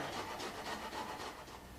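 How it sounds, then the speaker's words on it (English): Half a lemongrass stem being grated for a Thai salad, giving quiet, rhythmic rasping strokes that repeat steadily, close by and alone. "So just grate half a stem, as much or as little as you like"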